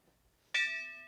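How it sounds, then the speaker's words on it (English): A small hand bell rung once by a fortune teller indoors, a bright clear strike after near silence, its ringing tones sustaining and slowly fading. "This is nice bell."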